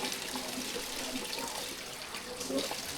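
Fresh water pours and gurgles steadily at the source of a river, near and continuous, with a faint voice in the background.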